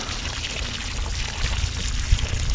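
Water poured generously onto garden soil to make mud for planting strawberry mother plants, a steady close splashing and gurgling pour lasting a couple of seconds with a slight surge near the end.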